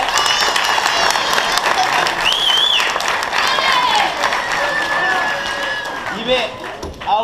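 Audience applause after a school performance of El vestit de l'Emperador, loud sustained clapping with scattered cheers and children's voices calling out over it.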